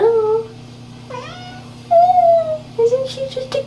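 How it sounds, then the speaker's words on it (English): A pet cat meows repeatedly nearby, four or five soft, rising and falling calls spaced apart over a low steady hum. "My girl Kitty has like the sweetest meow."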